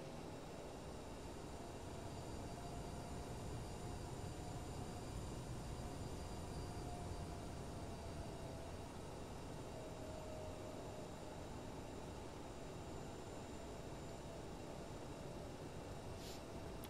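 Aerosoft CRJ900 jet taking off in a Microsoft Flight Simulator game: a steady, loud broadband engine roar that holds constant throughout, with no voices.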